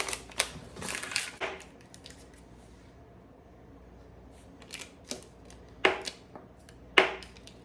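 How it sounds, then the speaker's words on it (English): A knife cuts cold butter into chunks on a board, giving a few sharp close knocks in two bursts separated by a quiet pause. "some butter, cold butter. I'm just going to cut it into chunks."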